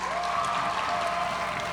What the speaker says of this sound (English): Can we take a moment and give a round of applause to all of your teachers who are here with us here today?